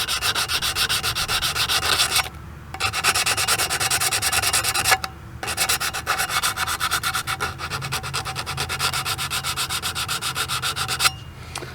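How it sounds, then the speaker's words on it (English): Sandpaper rasps by hand along the outside edge of a lettered commemorative piece, with close, loud, steady back-and-forth strokes that continue throughout, broken only by two brief pauses. "now I've got my sandpaper, and I'm gonna sand this edge, this outside edge here"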